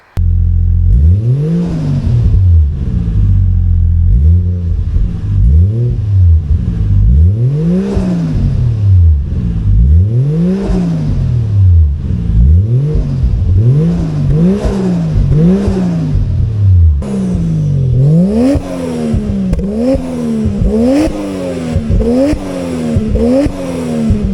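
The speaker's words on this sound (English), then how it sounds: "Let's show you guys what the car sounds like with just the catback versus the catback and the downpipe." Toyota JZX100 Chaser fitted with an aftermarket catback exhaust and downpipe, revving repeatedly in rising and falling sweeps, loud and close, with a sharper, raspier tone in the later revs.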